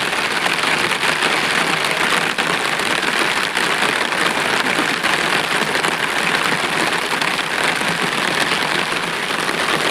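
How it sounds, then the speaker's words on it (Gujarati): Heavy rain falls on a flooded Gujarat village, an even, loud hiss of drops pattering on surfaces that holds constant throughout, with no voices. "ખૂબ વરસાદ પડી છે"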